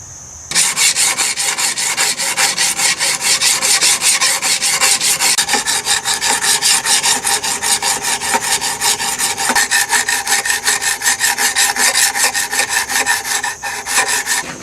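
A hand-forged sen scraper is sharpened with a steady, loud rasping file stroke, repeated rapidly and evenly and close up, with no talking.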